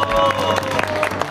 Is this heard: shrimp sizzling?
no